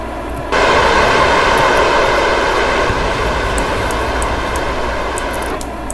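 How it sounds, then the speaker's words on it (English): Rocket engines in Kerbal Space Program fire up abruptly and hold a loud, steady broadband roar for about five seconds before cutting off sharply, with no talk over it. "I'm going to activate these engines."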